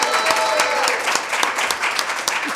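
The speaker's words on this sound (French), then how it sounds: "On applaudit Laurence." An audience applauds Laurence, a French deputy mayor for culture, with steady close clapping and scattered sharper claps over a short stretch.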